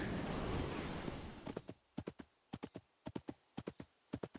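Horse hooves clip-clop in the video game Infinity Nikki, a steady run of crisp, evenly spaced hoofbeats in pairs that follows a louder wash of ambient noise, with no talking over them.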